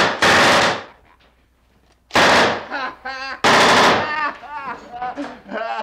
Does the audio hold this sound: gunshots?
yes